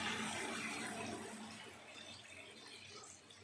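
Water pours into a simmering curry masala in a pot, a close, fairly faint rushing splash that fades out over a few seconds.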